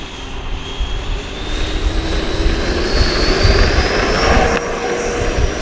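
An E-flite Viper 90mm EDF model jet takes off without flaps under full throttle, a loud whooshing ducted-fan whine that climbs steadily in pitch over several seconds over wind rumble, close by.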